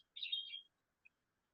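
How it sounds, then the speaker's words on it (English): A bird clock gives a short, faint electronic chirp followed by a tiny second tweet in an otherwise quiet room. "It's my bird clock."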